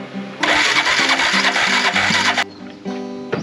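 A small Yamaha ATV engine sputters and surges unevenly up close, revving roughly in bursts, then cuts out briefly before catching again.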